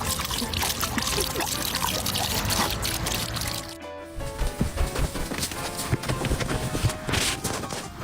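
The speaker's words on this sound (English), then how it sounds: "Look at how this pump quenches his thirst at the fountain." Water pours and trickles steadily from a drinking fountain as an animal drinks, a continuous splashing stream with some clattering, fairly close and loud throughout.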